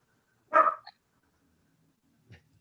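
A dog in a classroom lecture setting gives a single short bark, then falls silent, with a faint brief yip or whimper about two seconds later; otherwise quiet.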